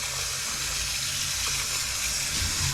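Tap water runs steadily into a dish in a kitchen sink for washing bay scallops, a soft, even hiss of flowing water throughout with no talk.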